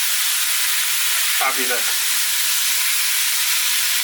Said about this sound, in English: just keep turning it and frying it